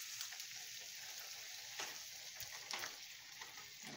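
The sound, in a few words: water added to a frying pan with salt cod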